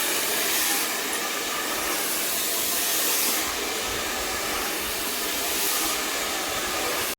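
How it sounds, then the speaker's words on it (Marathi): A hair dryer blows steadily on a child's hair just after a home haircut, a loud continuous whooshing hiss that holds for the whole stretch with slight surges in strength. "आता चिवच्या केसांना परत हवा मारायची सेटिंग करतो"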